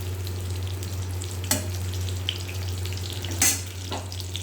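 White eggplant fries with black cumin in hot oil, giving a continuous close crackle over a low hum, with two sharp spatter bursts.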